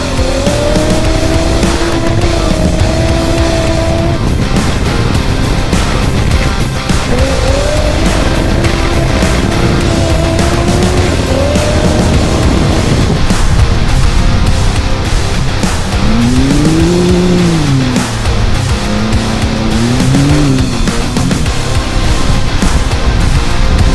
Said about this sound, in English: We ride on board the WA1 of Adam Truella as he continues his trouble-free run at the front of the field.